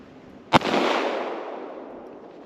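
A single sharp report from a .22 Magnum pistol firing Speer ammunition, loud and close, followed by a long fading echo that rolls on for over a second.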